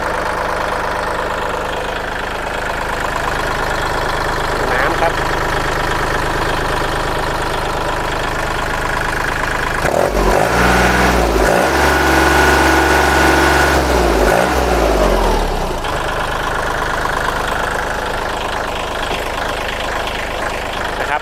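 A Kubota L3608 tractor diesel engine idles steadily throughout with a low, even rumble; midway the tone shifts briefly to a deeper, rougher throb before settling back.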